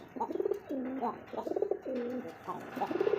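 A male racing pigeon coos close by in repeated throaty, rolling bursts, several calls in quick succession with no talk over them.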